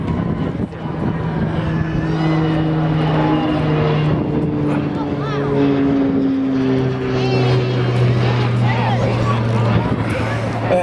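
Firefighting slurry bomber aircraft flying past at an air show, a loud sustained engine drone with shifting tonal whine throughout, with crowd babble and nearby talk beneath.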